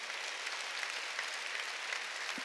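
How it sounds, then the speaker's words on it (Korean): Church congregation at a Korean worship service claps in a steady, dense, fairly soft wash of applause that holds evenly throughout without a break. "들은 사람만 박수치라고"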